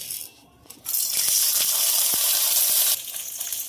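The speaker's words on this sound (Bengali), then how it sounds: "রসুন, কাজু বাদাম, গোটা গরম মশলা আর গোলমরিচ, শুকনো লঙ্কা, এগুলো সব একসাথে আমি ভেজে নেব।" Garlic, cashews, whole garam masala, peppercorns and dry red chillies hit hot oil for a curd mutton masala, bursting into a loud, sharp sizzle after a quiet moment, then easing slightly toward the end.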